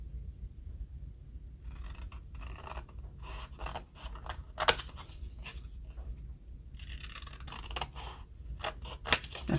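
Scissors snipping through paper while cutting out pieces for Bible journaling, a close, quiet run of irregular crisp cuts and rustles, alone without talk.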